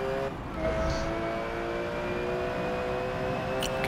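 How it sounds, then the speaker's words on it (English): A GT4 race car engine at night at Sebring in Forza Motorsport, a steady droning whine at moderate distance with a slight swell, continuous for a few seconds without talk. "I can hear Sam's car."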